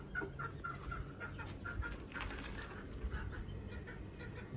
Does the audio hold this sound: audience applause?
no